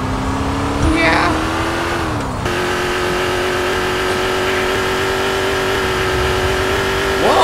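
Car engine droning steadily while driving in GTA San Andreas, a near, continuous hum with gear-shift pitch changes and a brief rising rev near the end, as people chat over it.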